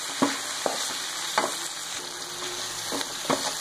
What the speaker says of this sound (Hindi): अच्छी तरह भून लेंगे।